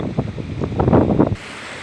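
Strong sea waves surge and crash against rocky shore on a rainy, very windy day, a dense rumbling roar of water and wind that swells in bursts, then settles into a steady hiss.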